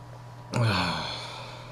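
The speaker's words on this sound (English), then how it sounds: "Definitely breathing heavy." A single heavy exhale bursts out close to the microphone and trails off over a second, from a man breathing hard after eating a Red Trinidad Moruga Scorpion pepper, with a steady low hum behind it.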